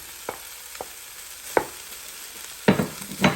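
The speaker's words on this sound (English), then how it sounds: "I'm gonna add the rice in" Cooked rice for lobster fried rice being stirred in a Power XL cooker, with a few separate scraping stirs and then a busier burst of stirring near the end over a soft, steady frying hiss.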